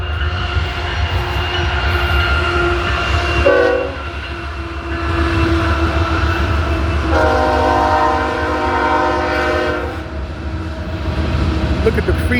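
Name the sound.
train passing with horn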